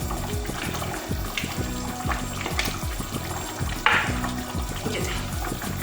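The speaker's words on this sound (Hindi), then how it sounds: "उसमें ग्रेवी जो बनाई थी हम वो उसमें डाल देंगे।" Homemade gravy poured slowly into a cooking pot for kofta aloo curry, a steady liquid pour and splash with faint sizzling, continuous and close.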